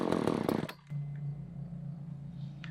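A chainsaw engine being cleaned and adjusted revs loudly up close under throttle, then drops abruptly and settles into a steady, rough idle.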